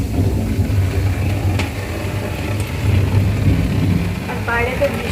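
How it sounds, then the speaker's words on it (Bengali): Rain falling outside, a dense steady patter and hiss heard continuously and loudly, with a low rumbling background underneath. "আর বাইরে তো বৃষ্টি পড়েই যাচ্ছে পড়েই যাচ্ছে"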